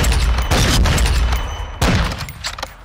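Loud gunfire on a shooting range in a video game set on Ashika Island: two close bursts of rapid shots, each with a booming tail, and no talking.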